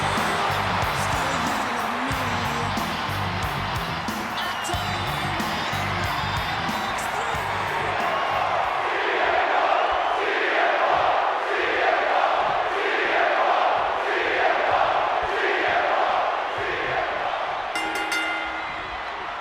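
Arena crowd roars and cheers continuously at a WWE 2K26 video game wrestling event, a dense loud wall of crowd noise with swelling chants and whoops throughout, louder in the second half.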